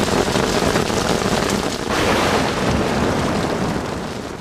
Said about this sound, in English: This sound of rain and its accompanying breeze sends many to sleep